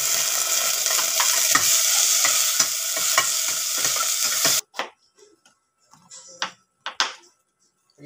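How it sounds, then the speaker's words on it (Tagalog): Onion and tomato sauté in a hot pan with a bright, steady sizzle and repeated spatula scrapes for several seconds, then the sizzle cuts out, leaving a few faint knocks and clatters in near silence. "Gisa lang tayo ng sibuyas."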